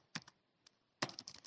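Computer keyboard typing in two short bursts of quick, light keystrokes, close and fairly quiet, separated by a brief pause.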